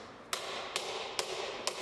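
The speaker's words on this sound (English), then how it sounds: "with your brass mallet and start tapping it" A brass mallet strikes a pre-war Rolls-Royce wheel in four sharp, evenly spaced metallic taps about half a second apart, close and clear over a quiet background.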